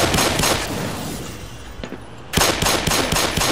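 Rapid, loud bursts of gunfire in the shooter game Black Mesa, a volley at the start, a quieter lull, then another close burst of shots.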